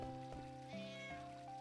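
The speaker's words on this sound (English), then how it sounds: "That's a cat? That's a cat." A cat in the Final Fantasy 9 video game gives a few short, soft meows over a steady musical background.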